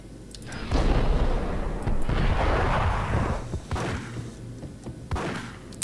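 An explosion in the Max Payne video game erupts as a loud, rumbling blast, followed by scattered thuds and gunfire-like cracks that fade in and out over several seconds.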